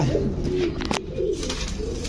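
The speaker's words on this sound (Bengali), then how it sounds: "দর্শক ইসমাইল ভাই বাগবাগুম পায়রা মাথায় দিয়ে টায়রা" Pigeons coo in a loft where pairs of pigeons are kept for sale, soft rolling calls repeating several times against steady low background noise.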